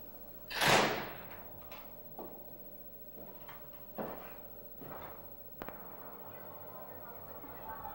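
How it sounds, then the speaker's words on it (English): A door opens onto a screened-in porch at a lockmaster's house, giving one loud, close knock-and-swing near the start, then a few softer thumps and a sharp click in a quiet room. "This is the door onto the porch."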